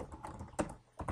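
Quick, uneven keystrokes tap on a computer keyboard as a short comment is typed, close and quiet, with a brief pause between bursts of clicks.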